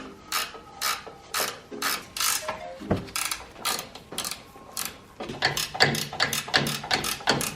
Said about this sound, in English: These are 14mm sockets I'm using.